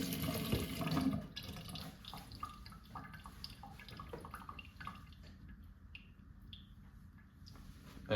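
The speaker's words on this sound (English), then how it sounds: "Wash off my hands real quick." Hands are rinsed under a running kitchen tap, water pouring and splashing into the sink with a gurgling rush, close and continuous, the flow briefly changing as the hands move, then dripping and trickling near the end.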